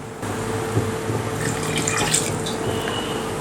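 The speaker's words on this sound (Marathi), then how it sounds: "यामध्ये थोडंसं पाणी घालूयात" Water pours steadily into a clay pot of mango curry for a few seconds, a close, continuous splashing trickle with no talking.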